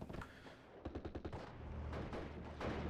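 Rapid machine-gun bursts from a Focke-Wulf strafing ground troops in Steel Division: Normandy 44, a quick rattling string of shots followed by heavier rumbling fire, moderately distant and without talk.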